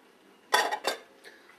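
A spoon scraping and clinking in a pan as chopped onions, celery, carrots and garlic are stirred for spaghetti bolognese, with two quick close scrapes and a fainter one after.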